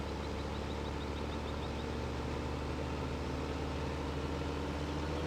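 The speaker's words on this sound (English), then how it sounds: "Come on, tractor, start up." A tractor engine in Farming Simulator 15 runs at a steady idle, a constant low drone with a faint whine above it, holding even and unbroken with no talking.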